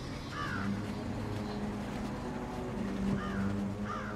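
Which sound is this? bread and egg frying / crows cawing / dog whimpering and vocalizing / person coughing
crows cawing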